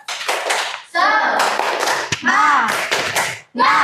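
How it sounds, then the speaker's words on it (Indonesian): A group performs a rhythmic spirit clap at a school learning session, with sharp bursts of clapping in patterned sets separated by short pauses and voices joining in between. "Tepuk semangat dulu. Tepuk semangat."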